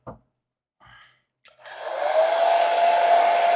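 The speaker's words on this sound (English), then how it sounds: "Hairdryer." A hairdryer on its hot setting switches on after a couple of brief soft sounds, then roars loud and steady with a high whine, close by during a model building and painting session.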